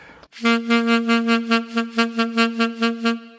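A sustained saxophone G with a steady vibrato pulsed by the breath, about a dozen regular swells in volume, played alone and close.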